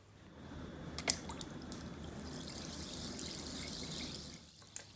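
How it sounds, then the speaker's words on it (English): Bath bomb of bicarbonate soda and citric acid fizzing in water, a soft steady hiss and bubbling close by, quiet throughout with a couple of small splashy drips. "The fizzing's because the bicarbonate soda and the citric acid are reacting together in water, releasing carbon dioxide"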